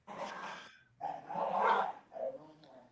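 Several dogs bark and yip in bursts, fairly close, with short gaps between rounds of barking.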